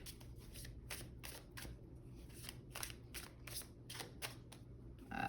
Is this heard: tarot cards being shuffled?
yes